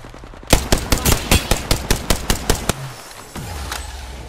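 Gunfire in the game Apex Legends, a rapid burst of about a dozen loud, sharp shots at a steady rhythm, close up, followed by a short mechanical whir and faint rumble, with no speech.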